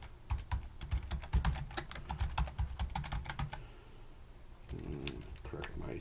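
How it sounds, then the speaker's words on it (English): Typing on a computer keyboard, rapid irregular clicks of keys struck in quick bursts for several seconds, close and fairly quiet, then trailing off into softer, sparse taps. "Correct my typing there."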